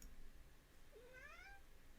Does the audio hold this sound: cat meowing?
yes